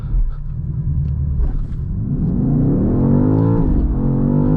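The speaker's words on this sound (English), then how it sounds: "I'll show you guys a little bit of acceleration that this thing has." BMW M car accelerating hard, a deep engine rumble rising into a climbing rev with steadily ascending pitch, loud and close, with no talk over it.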